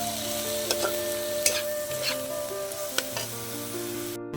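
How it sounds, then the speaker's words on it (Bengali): Chicken and grated potato frying in a pan, a continuous close sizzle with occasional spatula scrapes as they are stirred, alongside a steady tonal hum in the background. "দিয়ে আমি ভালো করে নেড়ে চেড়ে চিকেনটা আর আলুটা ভালো করে ভেজে কষিয়ে নেব"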